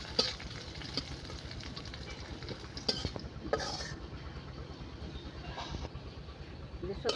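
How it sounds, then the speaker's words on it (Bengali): Onions frying in oil in a pan for masoor dal, stirred now and then, giving a steady soft sizzle with occasional scraping clinks of a utensil against the pan. "পেঁয়াজ বাজা হইতেছে"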